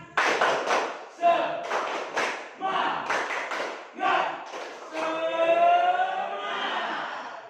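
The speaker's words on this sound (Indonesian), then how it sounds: "Tepuk semangat." A classroom of students performs a rhythmic spirit clap, with loud bursts of group clapping in quick patterned sets, followed by a rising crowd cheer or chant near the end.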